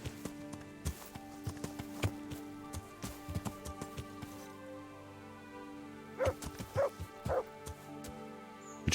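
A dog barking in the medieval video game Kingdom Come: Deliverance, a few short, fairly faint barks late in the scene over a low ambient background with scattered footsteps or hoof-like knocks.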